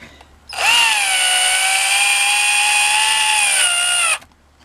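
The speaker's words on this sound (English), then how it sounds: "Put the old drill into it." An electric drill bites into a plastic cooler, one sustained high whine of about four seconds that starts sharply, holds steady and stops, loud and close with nothing else over it.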